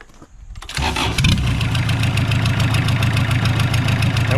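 A junkyard Kubota diesel engine, freshly freed from a seized injection pump and fitted to a roller compactor, cranks briefly, then catches and settles into a loud, steady, close-up diesel clatter at idle.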